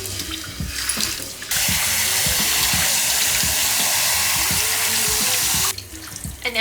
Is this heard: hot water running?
yes